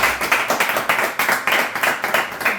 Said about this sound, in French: Bon, on applaudit le travail et la passion.